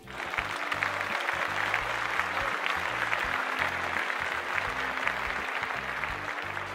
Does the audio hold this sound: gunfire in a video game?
no